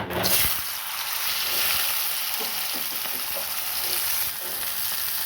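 Chickpeas frying in oil in a pan, giving a continuous dense sizzle and hiss, close and fairly loud, with a few soft stirring knocks and no talking.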